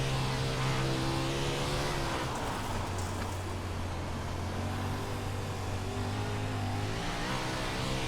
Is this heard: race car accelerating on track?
yes